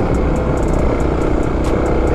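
A Kawasaki KLX250 motorcycle engine held at full throttle in third gear while climbing a slope, a loud, steady, close-up roar with a gritty low drone and no letup.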